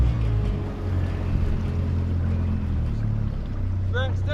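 A steady video game motorboat engine drones close by with water noise, and a brief electronic chirp sounds near the end.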